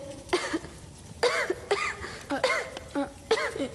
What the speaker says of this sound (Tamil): என்ன இருமல் நிக்க மாட்டேங்குதா